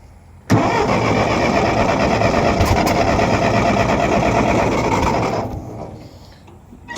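A small tractor engine cranks and catches, roaring steadily and loudly at close range for about five seconds before it dies away into a low rumble.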